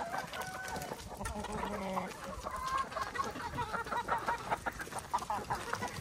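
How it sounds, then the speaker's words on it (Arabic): Chickens on a farm clucking and calling close by, busy overlapping clucks and a few drawn-out squawks, with a voice faintly underneath. "بان لي الدجاج فيه الجوع باغي يعلف"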